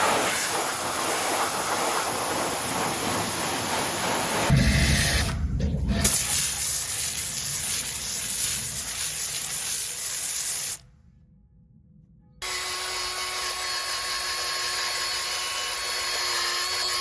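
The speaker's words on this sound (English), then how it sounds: "Let's get some degreaser and clean it off with a high pressure washer." A high-pressure washer blasts a car wheel on a Subaru Justy AWD, with a continuous hissing spray that changes tone briefly around a third of the way through and cuts out for a moment before resuming.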